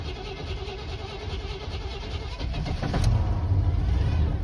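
A car engine cold-starting in winter snow, cranking steadily for a few seconds before catching and settling into a louder, rough idle, heard close.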